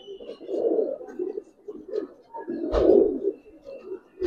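Giribaz and coloring pigeons coo in low, throaty bursts close by, one early and a louder one near the end, with faint background sounds in between.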